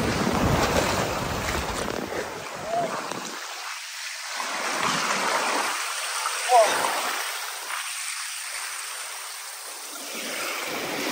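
Sea waves wash in and out on a quiet Karnataka beach, rolling surges of rushing water rising and receding every couple of seconds, close and fairly loud, with a little wind.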